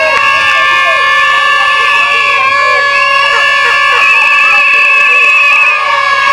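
An academic graduation ceremony crowd cheers loudly and steadily for a graduate, with shrill, sustained high-pitched tones layered over the noise throughout.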